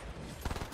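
A quick burst of rapid gunfire in a Fortnite battle royale match, several close sharp shots in a tight cluster lasting under a second.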